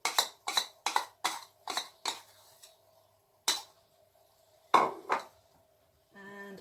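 A spoon scraping sticky condensed milk from a bowl, a quick run of sharp clinks and scrapes, then scattered single strikes with pauses between, close and fairly faint.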